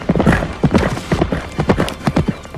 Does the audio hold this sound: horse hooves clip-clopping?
yes